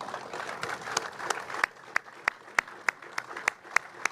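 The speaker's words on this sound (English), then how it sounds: "Give yourselves a round of applause." Applause from a Coast Guard audience, a dense burst of clapping that thins into a few slow, crisp individual claps echoing in a large space.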